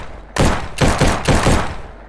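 Three loud, close bursts of rapid gunfire ring out in a laser gun shooting video game, each lasting about a third of a second with brief gaps between them.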